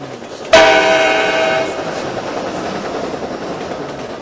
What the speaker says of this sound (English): A train is approaching the station.